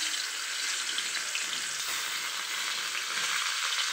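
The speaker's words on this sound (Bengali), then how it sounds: "এখন আমি ভেজে নেব। কড়াটা গরম হয়ে গিয়েছে।" Food fries in a hot pan with a dense, steady hiss and crackle of sizzling oil, close and continuous throughout, with no talking.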